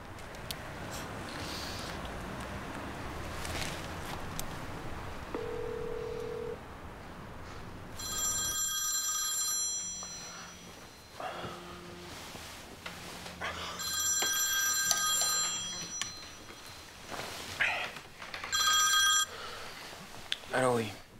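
A telephone bell rings in repeated bursts with pauses between them in a French crime film scene at night, over a low rumble and music.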